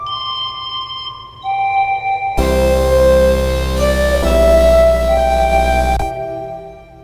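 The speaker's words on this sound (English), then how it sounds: "So everything just sounds like this after the chopped up flute hits." Bright flute notes in short chopped sample stabs, then a full beat crashes in with deep bass and layered melody, playing loudly for several seconds.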